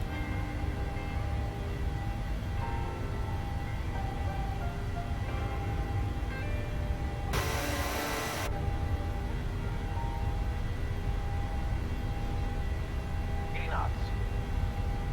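Simulated PMDG 737 jet rolling down the runway at full takeoff thrust in a flight simulator, a steady loud engine roar filling the whole stretch with a brief bright burst midway and people talking over it.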